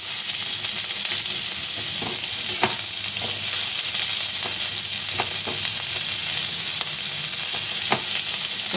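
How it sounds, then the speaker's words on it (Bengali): Sliced onions fry in hot oil in a pan, giving a steady, loud, close sizzle with occasional soft stirring clicks and no talking. "পেঁয়াজগুলো একটু ব্রাউন হওয়া পর্যন্ত লাল করে ভাজবো।"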